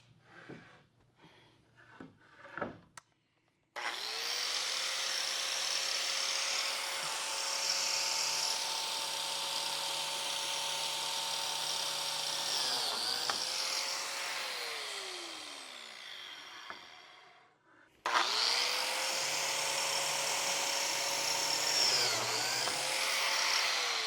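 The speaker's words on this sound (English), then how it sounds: "Grab the plate joiner." A plate joiner cuts biscuit slots in window trim, its motor whining steadily at close range in two long runs separated by a brief pause, with small knocks before it starts and no talk over it.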